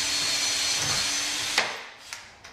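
A Festool drill fitted with a standard chuck runs in a steady whine for about one and a half seconds, then winds down, with a few sharp clicks as the chuck is loosened.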